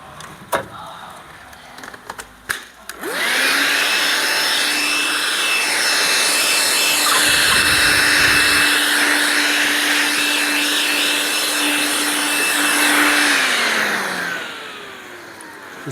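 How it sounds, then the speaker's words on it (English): A vacuum cleaner starts after a few clicks and knocks, whines steadily at close range for about ten seconds cleaning the windshield aperture of a 2021 Ford Mustang Mach-E, then winds down. "just going to give the aperture a bit vacuum."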